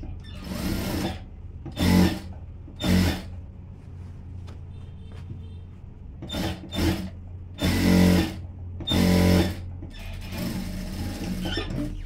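A sewing machine stitches a silk skirt in short bursts of whirring runs, several separate passes of one to two seconds each with quiet pauses between, close and clear with no talking.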